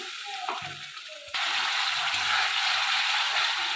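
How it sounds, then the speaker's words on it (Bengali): Spice paste of ground onion and tomato for a Bengali fish curry hits a hot pan with a sudden loud, steady sizzle, after brief clatter from the pan. "ভালো করে মশলাটাকে কষে নেব।"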